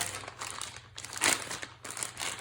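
A plastic bag pulled over a hand to serve as a frosting piping bag crinkles up close, with continuous rustling that swells into a louder crunch near the middle.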